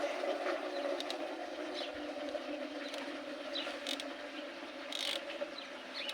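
Cylinder head bolts on a Zubr 8 hp walk-behind tiller engine are tightened in a diagonal order, with faint, close ratchet clicks in short bursts over a low steady hum.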